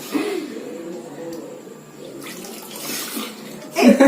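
Water pours into a tub at a game show, a gushing, splashing rush that runs steadily for a few seconds, swelling louder near the end, with voices faintly around it.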